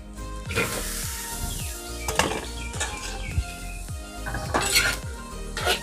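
Drumstick pieces are tipped into a pot of fried onions for an oil-free curry and stirred, a spoon clanking and scraping against the metal in repeated sharp knocks and rattles.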